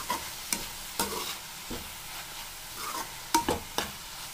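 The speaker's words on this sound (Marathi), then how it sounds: "ही बघा भाजी एकदम छान प्रकारे फ्राय होतीये। याला असं हलवायचं आहे।" Chopped spring onion greens fry in a pan with a steady low sizzle, broken by several sharp clatters as a spoon stirs and scrapes them around; no one speaks.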